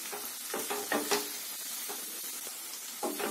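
Eggs cooking with masala and ground pepper for an egg pepper fry sizzle in a pan, with a few scraping stirs and turns breaking up the steady crackle, close and fairly soft.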